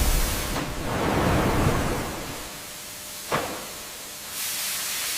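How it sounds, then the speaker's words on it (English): High-pressure steam hisses inside a sealed canning retort at a papaya factory, a loud, broad rushing that swells and fades, with a brief sharp burst partway through and the hiss returning at the end. "Inside, high-pressure steam eliminates any contaminants, ensuring the long-term preservation of the canned papaya."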